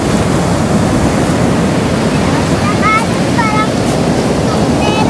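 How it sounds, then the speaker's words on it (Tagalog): Strong ocean waves at the seaside roar in a dense, continuous rush of surf, loud and close, with heavy wind buffeting the microphone and a few faint high voices in the background. "Bawat punta talaga natin dito, lakas ng alon."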